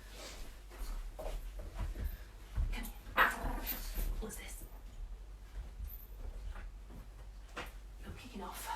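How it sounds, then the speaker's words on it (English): An old dog whimpering after knocking her treat onto the floor where she can't reach it, soft whines and small yips running beneath a person talking throughout. "My dog has just knocked her treat on the floor and can't get to it."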